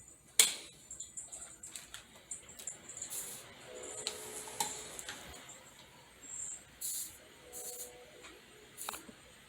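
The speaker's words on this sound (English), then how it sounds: "You hear me cleaning the soldering iron." Soldering iron tip being cleaned at a desk, quiet scattered scraping and brushing ticks with a few sharp clicks, faint and close, with no talk.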